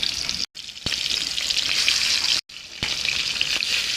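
Fresh pond fish pieces fry in hot oil in a kadai wok, giving a continuous bright hissing sizzle that breaks off twice for an instant before resuming.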